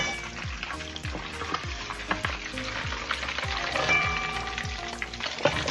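Pumpkin, onions, garlic and Irish potato sizzle in hot butter, a steady crackling fry with repeated rhythmic spoon scrapes and stirs throughout.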